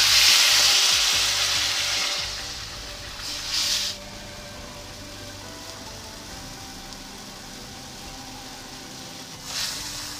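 Fish sizzles in hot oil in a pan, a loud close frying hiss at the start that settles into a steady softer crackle with a couple of brief flare-ups, no talk.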